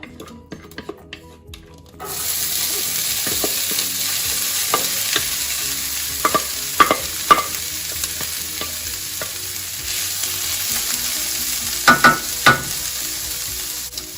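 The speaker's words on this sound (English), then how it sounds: "While I finish up the corn, I've got about a tablespoon of vegetable oil heating up in my skillet." Corn kernels frying in about a tablespoon of hot vegetable oil in a skillet, a steady loud sizzle that starts abruptly and runs on, punctuated by scattered crackles and pops, with no talking.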